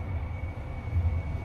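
Low, steady rumble of a metro train at a station in Dubai, a constant deep drone with a thin high whine running through it, and no voices.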